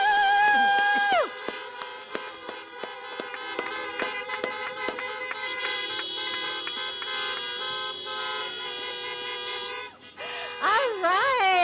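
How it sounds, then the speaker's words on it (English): Car horns honk repeatedly at an outdoor drive-in medical school graduation, long sustained toots overlapping with short beeps, fairly loud and continuous, with cheering voices near the end. "honk your horns."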